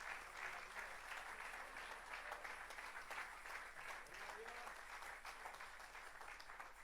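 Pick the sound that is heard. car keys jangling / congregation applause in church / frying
congregation applause in church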